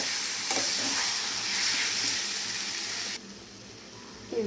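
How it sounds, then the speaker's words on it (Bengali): Meat stirred together with spices in a hot pan gives a moderate hissing sizzle that cuts off sharply partway through, leaving quiet room tone before a brief clatter at the end. "মাংসের সাথে মশলাটা ভালো করে মিশিয়ে নেব।"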